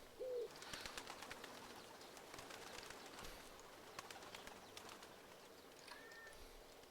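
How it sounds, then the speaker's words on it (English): Pigeons or doves in a Second Life game village courtyard beside a large fountain, with a soft coo near the start and faint chirps and wing flutters over steady ambient wash. "Doves."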